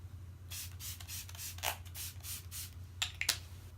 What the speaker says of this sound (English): I kind of just set my face with a setting spray.